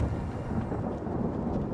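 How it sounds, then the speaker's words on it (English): Thunder rumbles from a closing storm in the video game Ashes of Creation Apocalypse, a steady, dense low roar mixed with rain-like hiss, continuous and fairly loud with no talk. "And now the storm is closing in."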